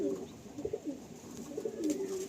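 Pigeon cooing, several soft, throaty coos repeating in a gentle rolling rhythm, close and fairly quiet, with faint background noise.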